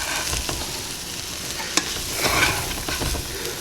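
Peas and onions stirred in a pan for creamy peas and onions, with a soft continuous sizzle, scraping utensil strokes and one sharp clink near the middle, close and alone.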